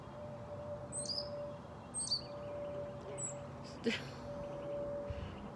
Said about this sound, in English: Got a bird and a plane over here.